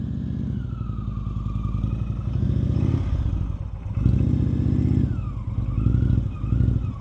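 A motorcycle engine pulses and revs in repeated surges while a rider practises slow-speed manoeuvres, the throttle rising and dipping in uneven bursts close to the microphone.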